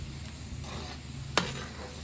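Coconut milk bubbles and sizzles steadily in a pan while being cooked down into latik, a soft continuous frying hiss with one sharp clink of a utensil midway.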